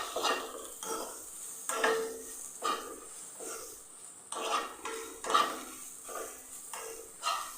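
Grated coconut and banana roasting in ghee in a pan, stirred with a utensil that scrapes and clinks against the metal in repeated strokes, close and moderately loud, with no voices.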